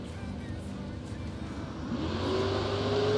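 A 1979 Camaro and a pickup truck at a drag strip footbrake race, engines droning and building in loudness as the run begins, with a rising tone emerging near the end over crowd and announcer chatter.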